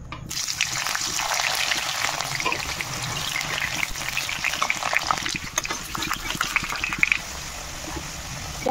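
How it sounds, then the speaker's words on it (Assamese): Potatoes frying in oil in a pot for a Bengali-style mutton curry, a steady crackling sizzle that fills the whole stretch, fairly close and moderately loud, with scattered sharper pops. "প্ৰথমতে মই আলুখিনি ৰঙচুৱাকৈ ভাজি ল'ম।"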